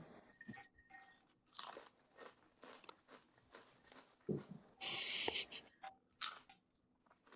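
Crunchy food is bitten and chewed in close, quiet ASMR style, with a series of sharp crisp crunches and crackles spaced irregularly, a few louder bursts standing out over a hushed background.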